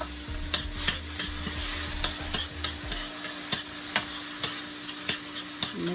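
Minced onion and ginger sizzle in a pan, a constant hiss with a steady run of quick spatula taps and scrapes as the mixture is stirred, and a low hum that fades midway.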